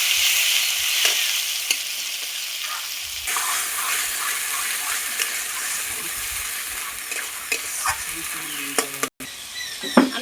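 Khanman leaf paste spitting and sizzling in hot oil tempered with black cumin seeds: loud, bright crackle for the first few seconds, then a steady, softer fry broken by scattered stirring scrapes and pops, with no voices.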